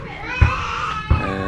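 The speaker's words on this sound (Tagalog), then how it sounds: "Ay maingay yung mga bata, umiyak pa." Noisy children shout and cry together in a lively crowd-like din, with two sharper loud outbursts standing out over the steady chatter.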